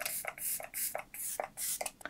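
LH Cosmetics On Set Long Lasting Setting Spray is pumped in about seven quick hissing bursts, close and fairly quiet, in an even rhythm with no talking.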